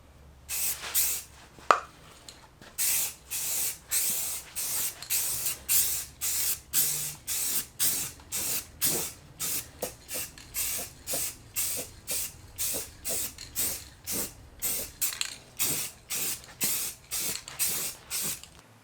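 Primer is spray-painted onto a fiberglass car bumper in a long series of short, sharp aerosol hisses, close and fairly regular, each burst separated by brief pauses.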